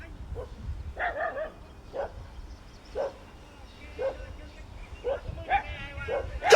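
A dog on patrol in rural ground barks and yips in scattered short bursts, fairly faint and somewhat distant, with people talking in the background between the barks.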